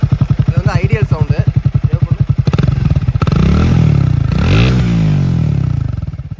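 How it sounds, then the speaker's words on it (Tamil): A Triumph Speed T4 roadster motorcycle idles with a close, loud thumping exhaust beat, then is revved up twice into rising, throaty roars before settling back. "வாங்க நம்ம அப்படியே எக்ஸாஸ்ட் நோட் எப்படி இருக்குன்னு கேட்டுடலாம்."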